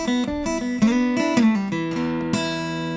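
An electric guitar plays a short Texas blues lick, with bent notes and quick phrases that end on a sustained, ringing chord, clear and solo.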